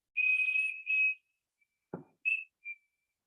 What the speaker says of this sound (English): it's very difficult to whistle.